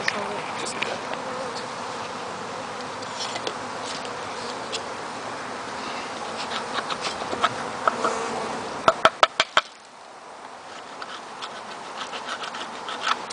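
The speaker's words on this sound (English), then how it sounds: "That is definitely a bee." Honeybees buzz steadily around hive boxes during beekeeping work, a close continuous drone with scattered scratches and taps. A brief burst of sharp clicks comes near the end, and people talk quietly throughout.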